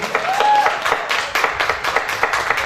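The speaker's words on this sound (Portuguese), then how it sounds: "a gente recebe com muito orgulho o senhor Sebastião e a senhora Isabel. Vamos aplaudir" An audience at a book launch at a literary fair applauds steadily, with many hands clapping in a dense, continuous patter that stays loud throughout.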